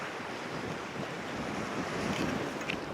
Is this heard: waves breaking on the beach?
yes